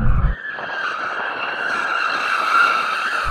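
BMW M2 tyres skidding and squealing in a sustained high-pitched screech during a drift, loud and close, with a brief engine burst at the start and end.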